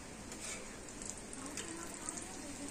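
Snacks frying in oil in a frying pan give a steady, close sizzling crackle that continues without a break, with no voices over it.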